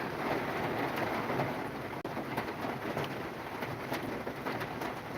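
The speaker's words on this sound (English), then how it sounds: "Yeah, finally got some rain." Rain falls steadily outdoors beneath a red maple tree, a soft continuous hiss with scattered faint patters, fairly quiet and without talk.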